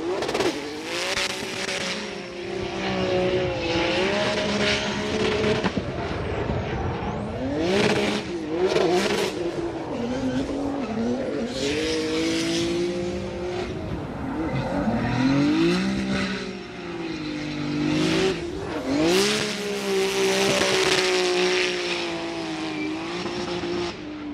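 A drift car on a solo bye run at Formula Drift Atlanta, engine revving hard and rising and falling through transitions with tire squeal, loud and continuous for the whole run.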